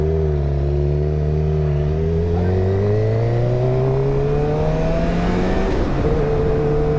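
A 2023 Suzuki GSX-R600 sport motorcycle pulls hard at three-quarter throttle in B mode, its engine note climbing steadily through the gears in a loud, continuous rising whine with no talk.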